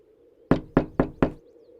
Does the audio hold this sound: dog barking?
no